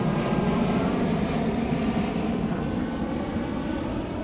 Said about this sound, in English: I'm sorry about the jet overhead.